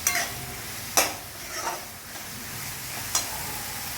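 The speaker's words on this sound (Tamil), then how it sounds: "ஸோ அதை அதுக்காக 1 நிமிஷம் நல்ல பெரிய தீயில் வதக்குறோம்." Paneer coated in masala is sautéed in a kadai over a high flame, giving a soft steady sizzle broken by a few sharp scrapes and clinks of a spoon against the pan.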